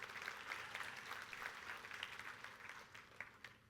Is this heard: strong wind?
no